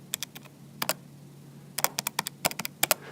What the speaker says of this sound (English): So if we type that in our calculator,